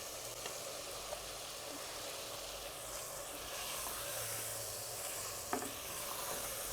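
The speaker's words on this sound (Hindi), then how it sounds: "अब मैं इसमें कचनार डाल रही हूँ इस तरीके से" Kachnar buds tossed into minced meat frying in a pan, a soft continuous sizzle and hiss with a few faint stirring clicks, quiet and even throughout.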